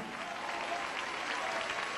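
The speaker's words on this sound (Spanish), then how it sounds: "Ese aplauso sea para el Señor Jesús." A church congregation claps together in a quiet, distant-sounding wash of applause that stays even throughout.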